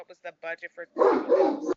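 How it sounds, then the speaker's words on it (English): A dog in the room barks in a quick run of short, sharp yips, then a person speaks close to the microphone. "My apologies for the dog."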